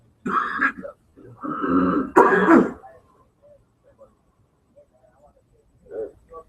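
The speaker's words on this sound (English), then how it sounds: "You already starting that cough" A few rough throat-clearing coughs come in quick bursts near the start, followed by quieter faint shuffling and one more small cough at the end.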